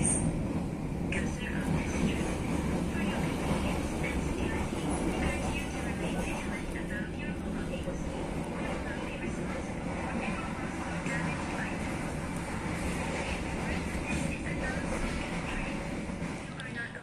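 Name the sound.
Tegal Bahari passenger train running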